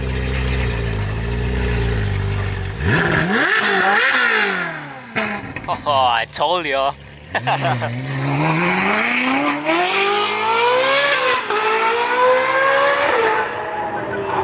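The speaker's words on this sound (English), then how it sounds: "we have the red 458 heading out from the show. This thing sounds absolutely insane." A red Ferrari 458 leaving a car show, revving hard in loud rising and falling sweeps with sharp throttle blips and a roaring pass, a voice briefly heard over it.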